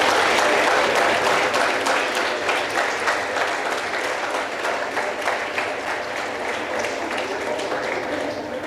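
A school audience claps loudly for a boys' team collecting its trophy, a dense, sustained round of applause that tapers slightly but keeps going throughout.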